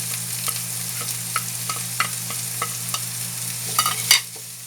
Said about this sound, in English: Just fry it until it's fragrant already, or we're achieving a golden brown texture.